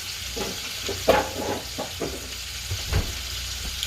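Thyme and rosemary frying in hot oil, a steady sizzle with a few sharper pops and stirring clatters scattered through, close and fairly loud with no talking.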